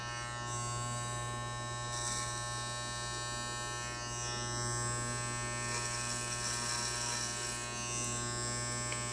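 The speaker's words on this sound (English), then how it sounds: "That little cutting sound that you hear is obviously it's cutting my hair" Conair Custom Home Cutting Kit electric hair clippers trim hair with a steady close electric buzz, the tone wavering slightly as the blades move through the hair, with no talking.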